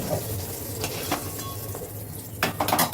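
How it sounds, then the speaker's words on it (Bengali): Cut eggplant pieces fry in hot oil, with a soft sizzle and a few sharp clinks and scrapes of a utensil against the pan, heard up close. "এবার ওই তেলের ভেতর আমি দিয়ে দিচ্ছি বেগুনটা, কেটে রাখা বেগুনটাও দিয়ে দিলাম।"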